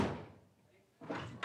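A door shuts with a muffled thump after a stretch of quiet, followed by a short knock or bump, heard indoors at moderate loudness.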